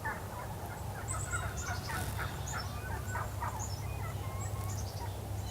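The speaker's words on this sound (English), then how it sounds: "you can often hear gobblers and hens communicating" Distant gobbling calls of wild turkey gobblers and hens ring out repeatedly over a quiet outdoor backdrop, with a few other birds chirping faintly.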